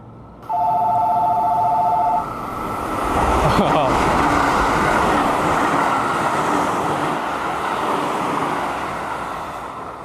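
A train rushes past on the far track at a quiet Tokaido bullet train station, a loud sustained roar building and fading slowly, with a station chime ringing briefly at the start.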